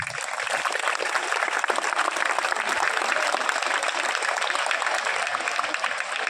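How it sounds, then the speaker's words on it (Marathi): A large outdoor crowd of rural police staff at the end of an anniversary rally in Udgir gives sustained, even applause, a thick, constant roar of clapping that never breaks. "तुमच्यासाठी एक बार टाळ्या व्हायला पाहिजे"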